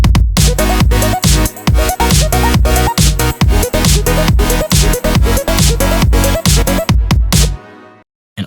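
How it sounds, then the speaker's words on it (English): EDM chorus: a bright Serum-built arpeggiated synth with distortion, EQ and delay over a pumping beat. Loud and steady with rhythmic sidechain dips, it plays alone and cuts off near the end. "I also added in this ARP that I made in Serum"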